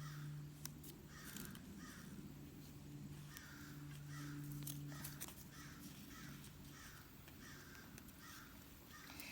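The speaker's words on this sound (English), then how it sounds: "I'm not sure if you can hear the crows" Crows caw outdoors in repeated short bursts, several harsh calls spaced across the stretch at moderate distance, over a low steady hum and faint background noise.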